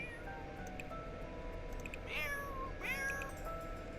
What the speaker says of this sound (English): It's a high-pitched little kitty voice.